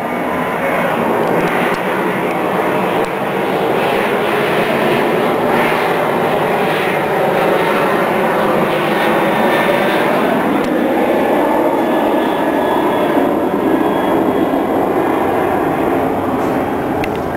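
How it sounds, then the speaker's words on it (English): A propeller or jet airplane flies overhead above a backyard vegetable garden, a loud, continuous engine roar that holds steady and fills the whole stretch without a break. "Let's wait for this plane to go over."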